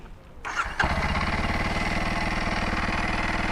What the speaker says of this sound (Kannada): ಓಕೆ, ಈಗ ಸ್ಟಾರ್ಟ್ ಮಾಡೋಣ ಗಾಡಿ.